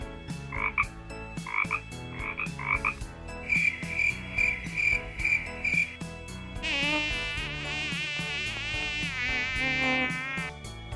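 A high, whining mosquito buzz rises over a busy musical backdrop with croaking frog-like calls and rhythmic beats, loud and close throughout, in a children's speech lesson game.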